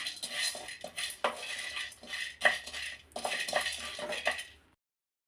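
Pumpkin seeds roasting in a pan are stirred with a metal utensil, giving repeated close scraping clinks and rattles in an irregular rhythm before stopping near the end.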